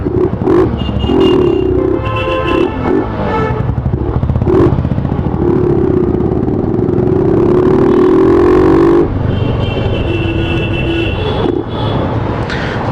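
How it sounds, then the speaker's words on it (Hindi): A 150cc motorcycle engine runs close by with a steady, buzzing putter that rises and falls as it revs, rattling throughout. "ये 150 सीसी का बाइक है, सुपर बाइक थोड़ी ना है"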